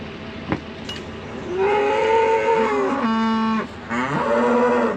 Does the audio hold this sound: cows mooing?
yes